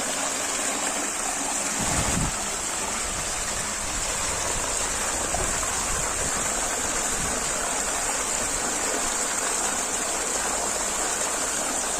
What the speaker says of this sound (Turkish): Hala bu su binlerce yıldır akıyor.